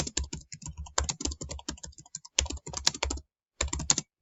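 Typing a title on a computer keyboard, close and clear, with rapid bursts of crisp key clicks separated by brief pauses and no talk.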